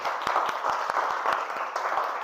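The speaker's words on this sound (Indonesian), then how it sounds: "Tepuk tangan untuk semuanya dulu" Students in a classroom clap for a short moment, giving a brisk, fairly dense patter of individual claps at even loudness.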